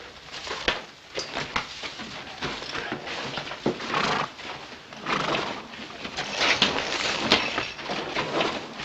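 A horse snorts and whinnies amid scattered hoof clops and shuffling, fairly close and with no talking.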